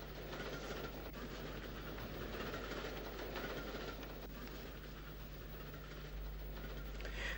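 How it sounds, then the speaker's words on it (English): A WT steam tank locomotive climbs hard with a nine-coach train near York Road in Northern Ireland, its steady rumbling running noise and clattering wheels sounding continuously and fairly faint throughout, with no talking. "they were climbing hard, as is evident from this sight of a WT tank with a 9-coach load"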